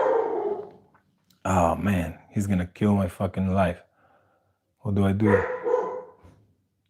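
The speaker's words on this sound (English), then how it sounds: "Sorry about my dog." A dog named Hachi barks in a close, loud burst of several sharp barks, with another short volley a little later, while someone talks in between.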